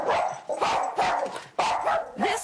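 A dog barks repeatedly, close and loud, in a rapid run of about five sharp woofs with brief gaps between them.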